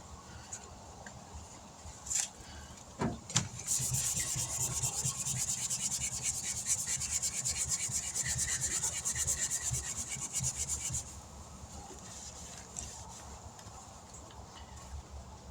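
Sandpaper rubbed over the body of a 1996 Dodge Ram 1500 work truck during bodywork, a few short scrapes and then a long steady rasping stretch of sanding, close and alone.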